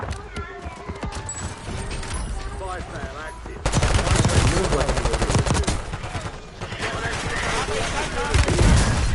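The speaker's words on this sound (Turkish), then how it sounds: "Vur vur vur Mustafa vur." Rapid game gunfire in a multiplayer shooter, with dense bursts of shots that grow louder midway and keep crackling steadily, mixed with excited voices talking over the action.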